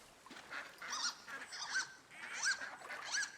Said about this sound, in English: That one duck makes a lot of noise.